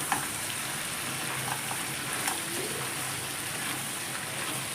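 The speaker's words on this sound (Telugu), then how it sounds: "ఇప్పుడు ఇందులోకి అల్లం వెల్లుల్లి పేస్ట్ వేసుకోవాలి వేసుకొని ఇది ఒక రెండు మూడు నిమిషాల పాటు మగ్గనిచ్చుకోవాలండి" Ginger garlic paste fries with crabs in a pan for crab curry, giving off a steady, close, continuous sizzle with faint stirring scrapes and no voices.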